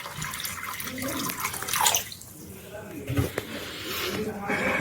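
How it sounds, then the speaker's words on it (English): Water poured from a container into a small homemade rainwater filtration tank model, a steady close splashing and trickling that runs continuously beneath a speaking voice. "Here I am pouring some water in it."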